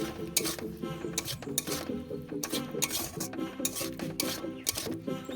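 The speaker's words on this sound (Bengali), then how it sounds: "এরপর মশলাটা কষিয়ে নিচ্ছি 3 মিনিট মতো।" Dhaba-style paneer masala spice paste with tomato paste and a little water is stirred and sautéed in a pan, giving repeated soft scraping strokes over steady background music.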